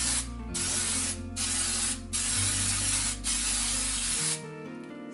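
Close aerosol baking spray coating a pan hisses in four steady bursts separated by brief pauses, loud and continuous, with no voices.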